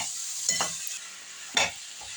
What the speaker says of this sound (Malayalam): ഇതെല്ലാം കൂടി കഷ്ണത്തിലിട്ട് നല്ലപോലെ വഴറ്റണം.